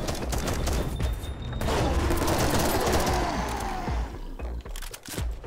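Gunfire and an explosion in the video game 10 Miles To Safety: a dense, loud stream of shots and blasts runs throughout, with a broad rumbling swell in the middle and sharp cracks near the end.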